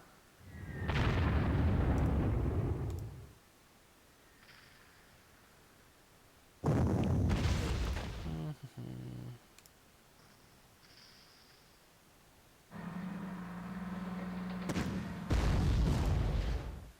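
Artillery bombardment in the Panzer Corps wargame arrives as three separate loud, rumbling explosive bursts, each lasting a few seconds, with near-silence between them.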